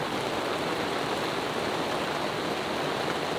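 Heavy rain from a thunderstorm pours down at night on a sailboat at sea in a dense, steady roar of hiss, loud and unbroken, with no voices.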